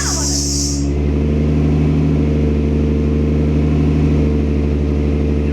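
Car engine fitted with a Motordyne exhaust starts and revs loudly, a steady deep drone running close and strong throughout after a brief high whine at the start, with faint voices underneath.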